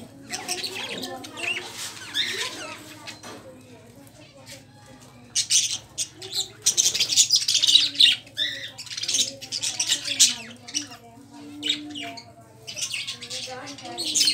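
Pet birds kept in cages, including parrots and chickens, giving sharp squawks and high chirps in irregular bursts, with a steady low hum and someone talking throughout.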